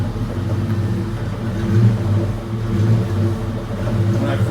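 A 1992 Ford Mustang GT V8 idles steadily with a slight uneven lope, its mass air sensor disconnected; a close, loud, continuous low rumble with gentle swells in revs and no talk over it.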